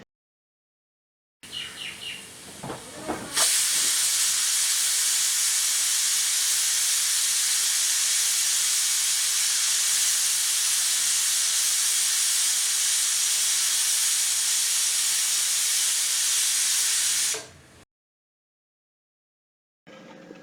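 A pressure cooker holding beef vindaloo vents a loud, steady hiss of steam for about fourteen seconds, then stops abruptly, with a few faint bird chirps before it starts.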